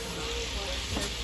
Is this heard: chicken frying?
yes